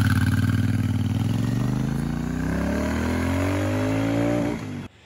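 A Royal Enfield motorcycle engine revs up steadily, pitch climbing for several seconds before cutting off abruptly; loud and close.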